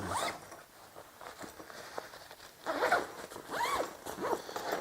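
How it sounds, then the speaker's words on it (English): Zipper pulled closed on a motorcycle pannier liner compartment, several close rasping zips in quick strokes, the last ones longer and louder, with no talking. "So if I zipper that up,"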